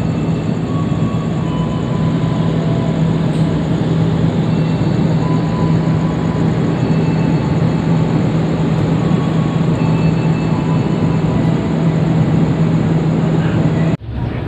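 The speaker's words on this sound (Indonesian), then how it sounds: "kereta api Wijaya Kusuma diberangkatkan dari stasiun Bangil" The Wijayakusuma express train, executive class, departs Bangil station at night with a steady, loud rolling rumble and a constant low hum, heard from on board without a break.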